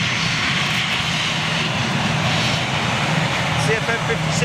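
Austrian Airlines Airbus A318/319 jet passing at London Gatwick, a steady engine roar with a low hum, moderately loud, with someone talking over it.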